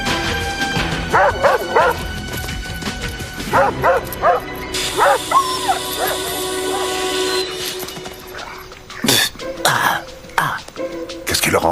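Guard dogs at a military post bark and yip in short bursts, with whimpers and anxious cries between barks, loud and close, mixed with some throat-clearing and voice sounds.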